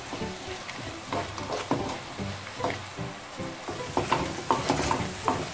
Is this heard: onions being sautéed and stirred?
yes